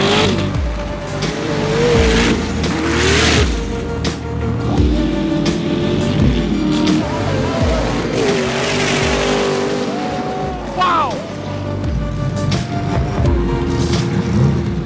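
Off-road vehicles in a 91-meter sand drag race at the 2018 Liwa festival in Abu Dhabi. Engines roar and rev loudly, with rising and falling pitch as vehicles accelerate across the sand.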